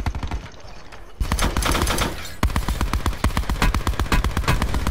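Rapid gunfire in a Black Ops 4 Blackout battle royale match comes as close, loud bursts of automatic shots in a steady rhythm after a short quieter stretch.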